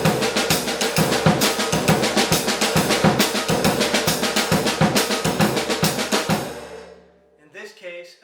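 Jazz drumming with bass drum and snare playing a steady triplet pattern, the snare filling the gaps around the kick, loud and close for about six seconds before it stops, followed by a faint short voice.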